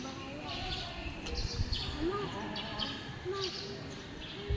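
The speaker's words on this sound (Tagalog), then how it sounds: "nakakaantok ang tunog ng ibon" Birds chirp intermittently in the background under a mango tree, short tweets and a couple of upward calls over a steady outdoor hum with low rustling.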